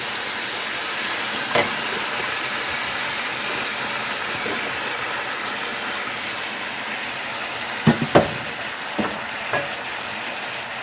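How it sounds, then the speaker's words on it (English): Cabbage frying and steaming in a pan: a steady, hissing sizzle throughout, broken by a few sharp clicks and knocks of stirring near the end. "the water starts steaming and frying everything together"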